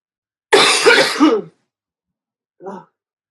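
A hard, raspy cough burst lasting about a second, followed after a pause by a short, quieter throat-clearing grunt, close by with no talk.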